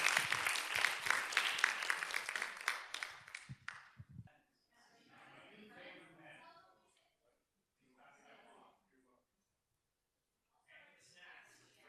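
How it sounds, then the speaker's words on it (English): Round of applause for students at a Board of Education meeting, a full room clapping loudly for about four seconds before stopping abruptly, then quieter talking follows. "One more round of applause for our awesome students"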